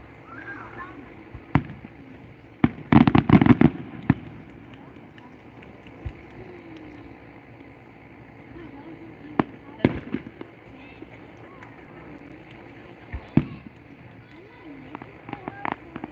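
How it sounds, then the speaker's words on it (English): Fireworks boom in scattered bursts, with a rapid cluster of loud bangs early on and a few isolated blasts later over a low background rumble. "Definitely love hearing those sonic booms."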